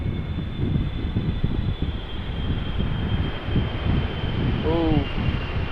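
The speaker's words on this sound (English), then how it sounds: "this is KLM Flight 622 arriving from Atlanta, Georgia, KLM 777-300 ER" A KLM Boeing 777-300ER lands at Amsterdam Schiphol in gusty crosswind, a steady engine roar mixed with wind rumble, with a brief whistling tone near the end.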